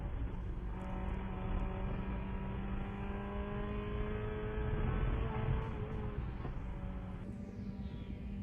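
Race cars at the FARA Memorial 300 brake into a turn, a sustained engine roar with falling pitches as the cars slow, loud and continuous at a distance, with no talking.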